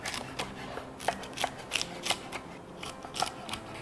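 Burdock root being cut into bite-sized pieces on a board, a series of crisp, evenly spaced knife cuts and taps, close and moderately quiet, with no speech.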